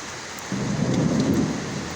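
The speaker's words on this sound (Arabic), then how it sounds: "صوت الرعد" Thunder rumbles through a heavy rainstorm over a residential neighborhood, a low rolling swell rising over steady hissing rain.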